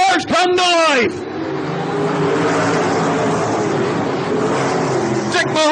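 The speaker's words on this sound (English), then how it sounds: "360 sprint cars come to life." 360 sprint cars race at a dirt track, a dense loud engine roar of several cars filling the air, opened and closed by brief loud cheering or announcer-style shouting.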